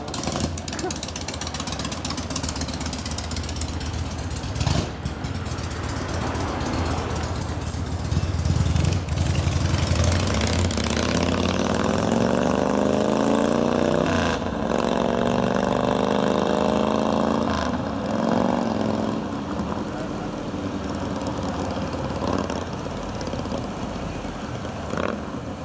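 A 1970 Harley-Davidson Sportster XLCH with an ironhead engine runs loud and close throughout, its rough mechanical drone rising and falling with throttle and wavering in pitch as it rides, and a voice is heard briefly.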